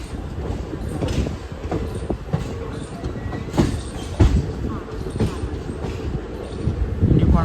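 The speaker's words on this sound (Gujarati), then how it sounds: "બીજી પેસેન્જર ટ્રેન રાજકોટથી લઈને પોરબંદર તરફ જવાવાળી" A passenger train bound from Rajkot toward Porbandar stands at Gondal railway station, its rumble and clanks steady and fairly close, with voices mixed in among the station noise.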